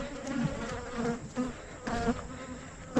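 Honeybees buzz around backyard beehives, a dense close droning swarm with individual bees whining past, steady and continuous with no voices.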